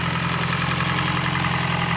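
A high-mileage 2006 Toyota Prius engine runs at a steady idle, producing a continuous low hum with an even, slightly rough vibration, heard close and alone without voices.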